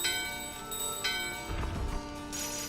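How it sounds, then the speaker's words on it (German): Two bells in the Final Fantasy IX video game ring together in unison, clear tonal strikes with a long ringing sustain, followed by a brief low rumble, heard alone without talk. "Beide Glocken läuten im Einklang."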